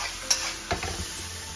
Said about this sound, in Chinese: 稍微翻炒一下，慢慢就上色